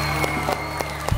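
Studio audience applause on a television game show, brief scattered claps over a steady hum, fairly faint and ending almost as soon as it begins.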